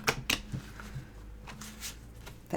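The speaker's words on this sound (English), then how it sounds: "Let me shuffle a couple more times." Tarot cards are shuffled up close in a few quick riffling bursts, with quiet pauses between them.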